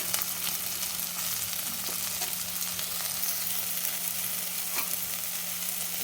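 Onions with green chillies and curry leaves fry in a pan for jowar idli masala, giving a steady, even sizzle with faint crackles, close and unbroken, with no voices.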